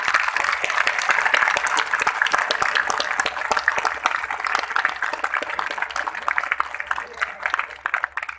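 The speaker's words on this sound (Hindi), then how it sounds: "एक जोरदार ताली।" A large festival crowd applauds loudly in a long, dense round of clapping that gradually thins out over about eight seconds, with faint voices mixed in.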